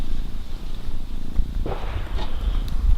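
A cat on a frontline military position purrs steadily and close, a low continuous rumble with scattered faint background noise.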